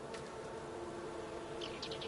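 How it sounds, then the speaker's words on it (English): Bees at a farm beehive give a faint, steady buzz with no voices, a low continuous hum carrying a few soft higher flutters. "Oh, my beehive."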